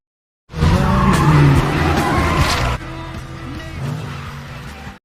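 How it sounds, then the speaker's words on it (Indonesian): Racing cars in a Herbie film scene roar loudly with tire squeal and skidding. After a brief silence a sustained engine and screech burst begins, then drops to a lower, steadier rumble partway through. "Lalu Maggie dan Herbie pun balapan melawan sang pembalap itu."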